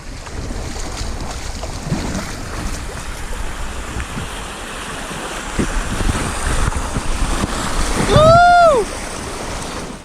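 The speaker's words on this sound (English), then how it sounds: "This extreme waterfall." Rushing water of river rapids and a waterfall roars steadily in the open air with wind buffeting the microphone, swelling louder near the end as a short squeal cuts through.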